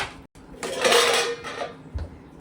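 Cooked rice is served onto a plate at home beside fish curry and fried fish, with a short clatter of a utensil against dishware and a few scrapes and clinks. There is no talking.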